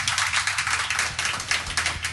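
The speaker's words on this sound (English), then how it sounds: "let's give Leslie a nice round of applause" A studio audience at a live radio recovery show gives a round of applause: a steady, dense patter of hands clapping throughout, moderately close, with a low hum underneath and no talking.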